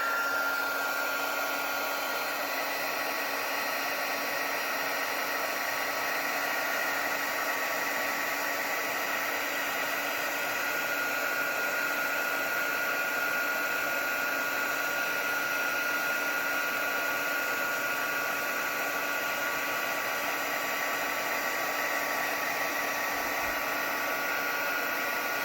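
A handheld heat embossing tool blows steadily over a card to melt gold embossing powder. The whirring airflow is constant and close for the whole stretch, with no talk.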